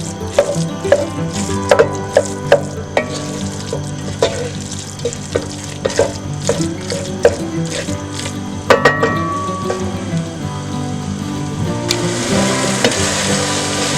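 Steady sizzling and crackling of chicken frying in a pan, with intermittent clinks and stirring scrapes, close by and fairly loud.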